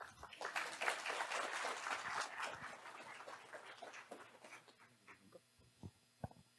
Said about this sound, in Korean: 첫 번째 우리 김용대 교수님 큰 박수로 맞이하겠습니다.